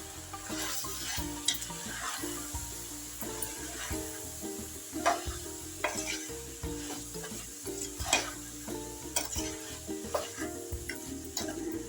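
Mixed vegetables frying in a pan with salt, chilli powder, turmeric and coriander powder, a steady close sizzle broken by repeated stirring scrapes and spoon knocks throughout.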